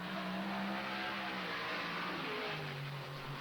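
Mustang and Javelin race cars of the 1970 Trans Am series at Watkins Glen, engines droning steadily as they run together into the last turn, pitch shifting slightly, loud and continuous without voices.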